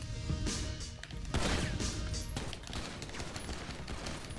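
Bursts of gunfire during a shootout in Grand Theft Auto Online, a series of sharp shots and rattling volleys in quick succession with crashing impacts, fairly loud and with no talk over them.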